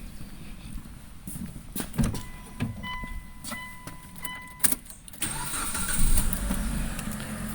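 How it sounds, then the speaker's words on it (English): Mitsubishi GDI car engine cranking and catching, a short starter whir rising into a steady idle after several seconds of quiet background clicks and shop noise, close and fairly loud. "And let's go start the car again."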